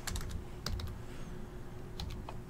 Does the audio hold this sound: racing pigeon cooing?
no